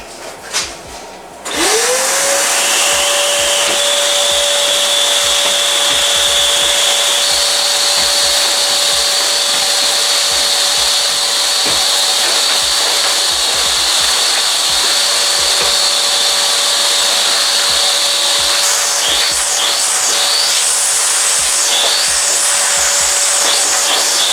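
A vacuum cleaner runs steadily while a Passat B5 is painted by brush, its motor whine starting abruptly after a brief quiet moment and holding loud and continuous, with faint scraping and tapping underneath and no talk.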